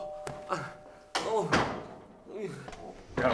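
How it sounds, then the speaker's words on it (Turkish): Sharp knocks on a door and heavy door thuds come in a short, irregular series, close by, with brief voices between. "İki saattir kapıyı çalıyorum."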